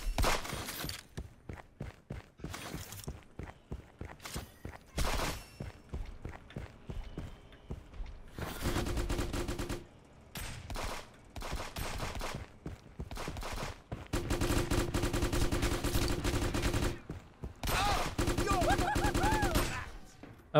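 Gunfire in the video game Friends vs Friends: bursts of rapid shots and sharp single cracks, broken by short lulls and then long, loud, dense stretches of firing.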